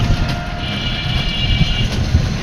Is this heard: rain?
no